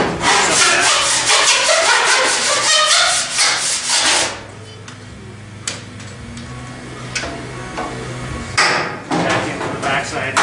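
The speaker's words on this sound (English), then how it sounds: "Actually, I'm going to file it first." A file is drawn across a dented car body panel in rapid, rough rasping strokes at close range. The strokes ease off partway through, leaving quieter scraping and a few sharp scratches.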